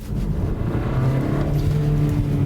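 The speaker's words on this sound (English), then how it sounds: "I'm driving now and I need to give a burst of acceleration" A 2022 Hyundai Kona N-line accelerates hard under full throttle, its engine giving a loud, sustained drone that swells slightly as the revs climb, heard close up.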